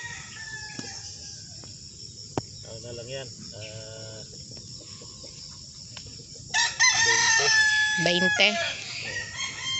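Fighting-breed roosters crow repeatedly over a steady chorus of chirping insects, with a few hens clucking and someone speaking briefly in between.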